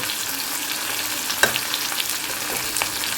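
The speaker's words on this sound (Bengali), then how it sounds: "মাছটা ভাজা হয়ে গেছে, ডিমটা ভেজে নিচ্ছি" An egg fries in a hot pan with a loud, steady crackling sizzle and occasional sharp pops and stirring clicks, close and continuous with no talking.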